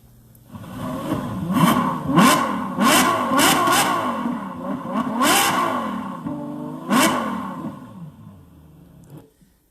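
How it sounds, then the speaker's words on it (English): A car engine revving hard, a loud sound effect with repeated sharp throttle blips and rising whines over a sustained growl, then cutting off abruptly at the end. "ladies and gentlemen, start your engines"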